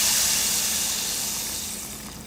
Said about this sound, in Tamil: இப்போ நம்ம கரைச்சி வச்சுருக்கிற புளி தண்ணியை இது கூட ஆட் பண்ணிக்கலாம்